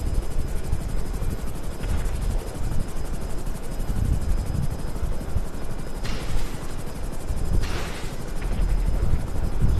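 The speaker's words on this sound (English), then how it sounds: "So now I am using army helicopter." An army helicopter's rotor in GTA 5 thrums loudly and continuously, with a few sharp bursts like modded nuclear explosions breaking through the steady drone.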